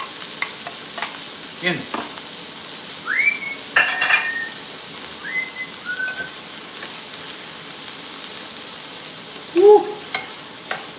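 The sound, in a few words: vegetables frying in hot grease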